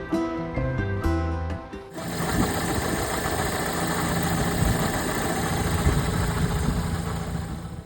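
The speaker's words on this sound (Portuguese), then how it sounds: "E agora eu comecei a ouvir um barulho estranho na correia do motor." A car engine runs steadily near Lago Roca in Tierra del Fuego with an odd belt noise, a constant mid-pitched droning whir with rattly texture that starts abruptly after a brief stretch of music.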